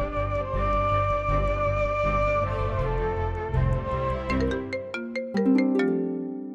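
A mobile phone rings with a melodic ringtone for an incoming call, playing loud and steady with layered tones before the tune shifts to brighter, sharper plucked notes near the end.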